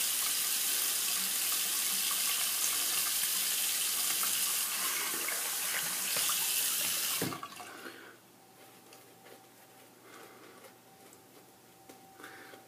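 Tap water runs loud and steady from a faucet for a shave rinse, then cuts off partway, leaving a quieter room with faint drips and small handling noises.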